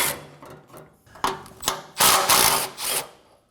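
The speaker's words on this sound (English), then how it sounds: "Using a 12mm socket, we're going to remove these two bolts." Bolts being loosened with a 12mm socket on a Nissan Armada, close-up ratcheting and metallic clicks in short bursts, building to louder rapid spinning rattles toward the end, with no talking.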